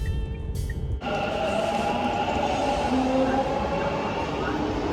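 A metro train rumbles at a metro station, a loud, steady roar that surges in after a quieter first second and continues with a sustained mechanical whine.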